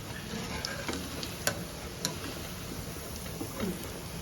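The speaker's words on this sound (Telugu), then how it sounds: "ఇప్పుడు నెక్స్ట్ వాయి వేసుకొని ఇట్లా అన్నీ వేయించుకోవాలి మన దగ్గర ఉన్న కీమా బాల్స్ అన్నీ ఇట్లా" Mutton keema balls fry in hot oil, giving a steady close sizzle with a few sharp ticks and pops scattered through it, no voices over it.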